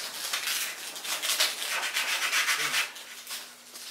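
Sandpaper rubbed against a carved wooden pike model, a close, dry scratchy rasp in quick back-and-forth strokes, steady for a few seconds and then tapering off.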